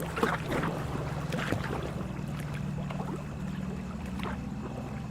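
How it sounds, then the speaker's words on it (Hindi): Oars pull a wooden boat fast across the water with steady splashes and swishing strokes, a continuous low rumble of water and wind underneath, and no voices. "शेखर दादा और मैं बहुत ही तेज़ी में नाव की चप्पू चला रहे थे।"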